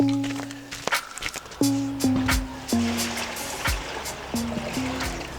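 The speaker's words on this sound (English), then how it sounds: "Okay, empty our grey water." Grey water drains from a van's waste tank during a vanlife trip in Morocco, trickling and splashing close by with a steady wet flow, broken by short tonal hums.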